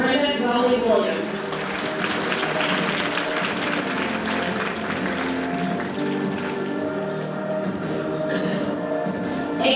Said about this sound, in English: Ladies and gentlemen, please give another round of applause for Ms. Brenda Gully Williams.